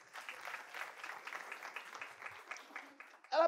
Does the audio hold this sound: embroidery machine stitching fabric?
no